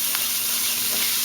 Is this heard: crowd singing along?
no